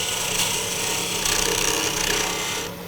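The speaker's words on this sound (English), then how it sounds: "I'm already committed to using a spindle gouge, so we'll go that route for right now" Spindle gouge cutting into a spinning wooden workpiece on a lathe, a steady close rasping scrape that holds throughout with slight swells and eases off near the end.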